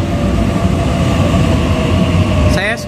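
A train rumbles steadily with a low, continuous drone, a brief higher squeal or whine rising near the end.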